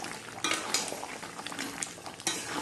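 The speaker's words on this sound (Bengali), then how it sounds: "এবার একটুখানি নাড়বো, নেড়ে চেড়ে নামিয়ে রাখবো।" A utensil stirs egg and meat curry in a metal pot, with scraping clinks and a few sharper knocks against the pot over a low bubbling simmer, close by and fairly quiet.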